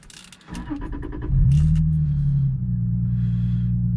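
A Lexus IS300 engine with a cold air intake idles steadily inside the cabin after starting, with a low droning hum and a slight rev partway through; a brief jangle precedes it.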